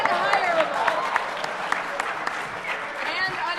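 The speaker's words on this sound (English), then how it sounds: "you guys all are clapping" Audience applause at a hacker conference talk, a scattered burst of clapping from a crowd with a speaker's voice talking over it throughout.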